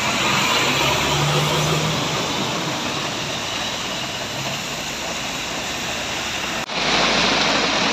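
Heavy rain on a road roars as a dense, continuous wash that stays loud and steady, with a low vehicle rumble underneath, then shifts abruptly near the end.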